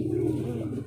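A racing pigeon, an off-color, slightly bulky apple-bodied bird, coos low and steadily for under a second, close by and fairly soft.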